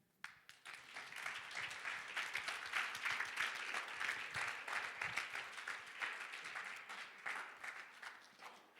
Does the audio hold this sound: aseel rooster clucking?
no